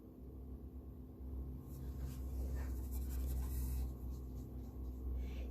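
A paintbrush dabs and strokes watercolor paint straight onto dry paper in a paint-along, making a soft, steady scratchy brushing over a low background hum, with no talking.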